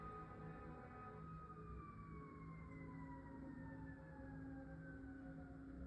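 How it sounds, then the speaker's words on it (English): A distant siren wails with a slow falling pitch over steady low traffic rumble, continuing throughout. "This siren."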